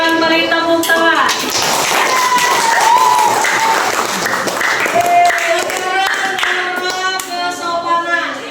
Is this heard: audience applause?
yes